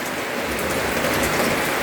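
Rain pours steadily onto a house, a dense, even hiss of drops close by with no breaks and no voices.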